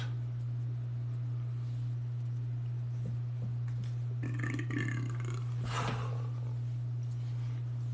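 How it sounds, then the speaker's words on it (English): A person burps a few times near the end, each burp short and fairly quiet over a steady low electrical hum. "I apologize for burping."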